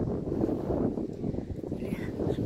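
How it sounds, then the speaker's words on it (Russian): Steady low rumbling of strong wind buffets the microphone throughout in the city centre of Chisinau, Moldova, during the day, a dense, constant roar with no other clear sounds. "такой ветер сильный, будет, наверное, задувать"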